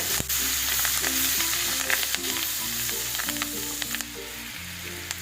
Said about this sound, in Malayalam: വെളുത്തുള്ളി നല്ലോണം നമ്മുടെ ഈ ഒരു ബട്ടറിൽ കിടന്നിട്ട് നല്ലോണം ഒന്ന് വഴന്ന് വരട്ടെ